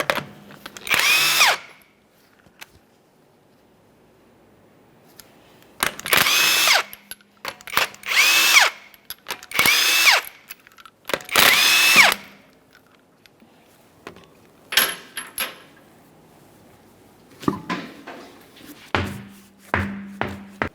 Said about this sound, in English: To remove your right front wheel, you want to remove all 5 of your 21mm lug nuts